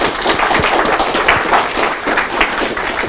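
An audience applauds steadily as a speaker walks onto the stage at a lecture hall event, with dense, sustained clapping from many hands throughout and no voices above it.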